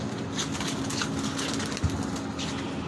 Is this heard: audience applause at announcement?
no